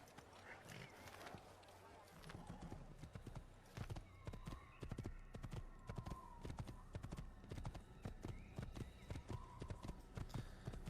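Horse hooves clip-clop rapidly in the Assassin's Creed video game on PS3, a steady galloping rhythm with a whinny, heard beneath someone talking.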